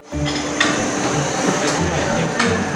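Dense metallic knocking of a hammer driving the core out of a motorcycle part in a repair workshop, steady clatter with a few sharper strikes, close and loud throughout.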